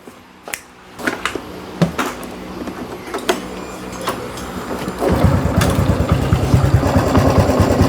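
A Honda Wave 110i motorcycle runs close by with a mechanical ticking and rattling noise, scattered clicks at first, then a louder, denser buzzing drone over the last few seconds.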